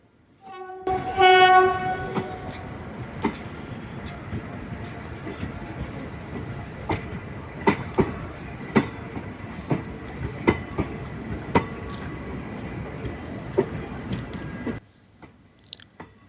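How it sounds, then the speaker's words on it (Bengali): Gour Express rolls slowly into platform 2 at Naihati: a loud horn blast opens, then a steady rumble with rhythmic wheel clacks on rail joints and occasional sharp metallic knocks, fading abruptly near the end. "নৈহাটির 2 নম্বর প্ল্যাটফর্মে ঢোকার সময় গৌড় এক্সপ্রেসের গতি খুবই কম থাকে"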